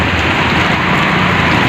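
Heavy morning rain around 7 a.m. pours without pause, a loud, unbroken wash of dense hiss close by, with no voices.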